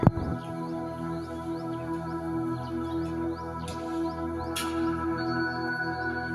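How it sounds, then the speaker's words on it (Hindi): Birds chirp outdoors at a camp in Bakodi, Seoni, Madhya Pradesh: faint, repeated short tweets sit above a steady low drone, with a couple of brief louder bursts. "चिड़ियों की चहचहाहट"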